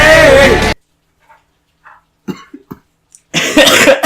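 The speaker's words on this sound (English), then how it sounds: "Cough now." A few short, sharp coughs break a near-silent stretch, framed by louder bursts of sound at the start and end.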